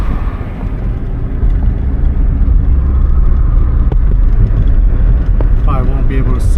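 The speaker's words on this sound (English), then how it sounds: "So on the road, driving nicely." Subaru BRAT with a WRX engine swap driving on the road: a steady, close cabin rumble of engine and road noise throughout, with someone talking over it.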